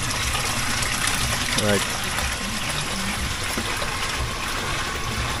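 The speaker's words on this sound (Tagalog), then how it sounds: "At nilalagyan pa ng kuya ko ng dagdag na tubig, no. At ayan yung hose." A hose gushes water at a house with a small store under construction, a steady rushing splash running throughout while a person briefly speaks nearby.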